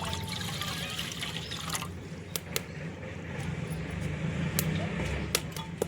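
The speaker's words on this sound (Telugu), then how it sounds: "నీళ్ళు వేసుకుంటున్నాను." Water pours from a vessel into a kadai on a stove, a soft steady trickle and splash under faint kitchen background noise, with a few sharp clicks.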